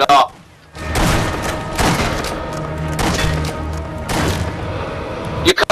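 Gunfire in the Sniper Elite V2 co-op campaign at the Mittelwerk facility: several loud booming shots and heavy thuds in quick bursts across the stretch, with a player's voice talking over part of it.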